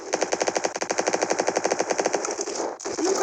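Rapid automatic gunfire in a Glock Strike shooting video game rattles off in a long, steady, loud burst, then briefly breaks and resumes, with no voices over it.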